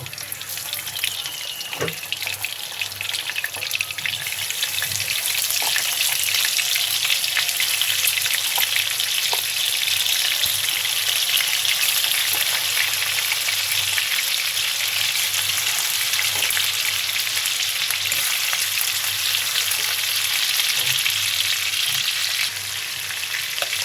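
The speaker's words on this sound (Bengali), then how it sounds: "মাছগুলো হালকা ভেজে নেব।" Prawns coated in turmeric and salt fry in oil in a frying pan, producing a long, even, hissing sizzle that holds steady throughout, with occasional faint clicks and no talking.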